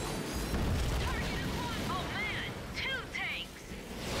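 A Predator missile launcher from the Ratchet and Clank game fires with booming, rumbling blasts under swooping electronic whines. Layered game effects fill the scene steadily throughout.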